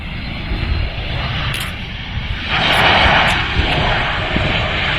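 An EasyJet A320 roars overhead as a loud, steady jet rumble, swelling slightly midway as it passes close by.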